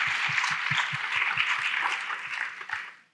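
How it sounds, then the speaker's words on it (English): An indoor panel audience gives a brief round of applause, a steady dense patter of clapping that tapers off at the end. "Round of applause for Kate"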